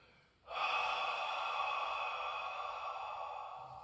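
A long, deep breath drawn in during a Pilates exercise, starting abruptly and holding as a steady, airy rush close to the microphone, quiet and alone.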